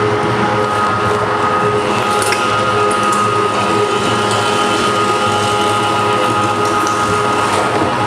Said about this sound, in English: I always wanna finish with pure meat to make sure I'm pushing all that fat through the grinder